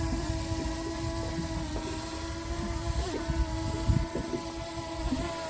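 A DJI drone flying at full throttle in strong wind gives a steady high whine with wavering rotor tones over heavy wind buffeting, faint and without talking.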